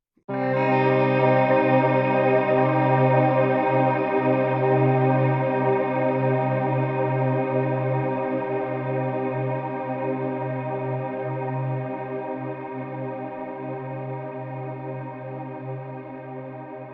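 A sustained, shimmering guitar drone, time-stretched, with rich layered harmonics, washed in heavy reverb, holding steady and slowly fading over about seventeen seconds.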